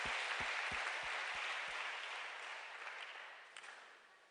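A church congregation claps loudly in sustained applause at the close of a prayer in Jesus' name, the dense clapping gradually thinning and fading, with a few sharp low thumps early on.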